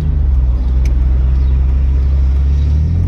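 A Ferrari arrives and pulls in to park, its engine giving a steady, deep low rumble close by and at constant loudness for a few seconds. No voices are heard.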